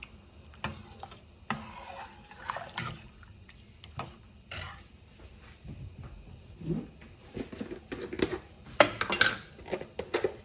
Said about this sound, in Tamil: நான் நல்லா உப்பு போட்டு கிளறி வச்சுருவேன்